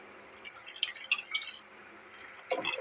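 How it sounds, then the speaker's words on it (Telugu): Soaked dried prawns being rinsed with water, giving faint, intermittent drips and small splashes with brief sloshing near the end, close by and quiet with no talk. "నీట్గా 2-3 సార్లు నీళ్ళు పోసుకొని కడుక్కుందాం"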